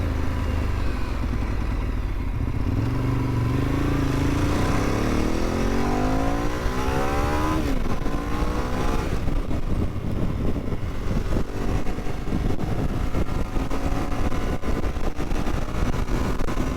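Ducati 848 motorcycle with stock exhaust revving hard as it opens up past a van, its loud engine note climbing steadily in pitch through the gears, close and continuous with road and wind noise.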